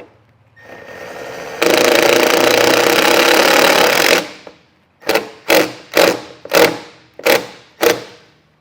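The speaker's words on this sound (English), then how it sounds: "I'm going to do that using the provided self-tapping screw" A power drill drives a self-tapping screw into a 2017 Ram ProMaster van: a quiet motor start, a loud sustained whirring drive of a few seconds, then six short sharp bursts of the drill.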